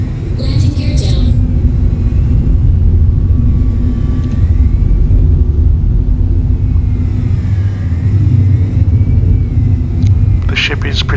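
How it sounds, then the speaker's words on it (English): A Misc Reliant Kore ship in Star Citizen descends to land with its landing gear down, a steady loud engine rumble and hum holding throughout with faint tonal whines drifting over it, while a voice talks over the noise. "coming in for landing"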